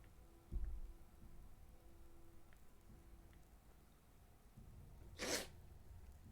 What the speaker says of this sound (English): He's sneezing at me.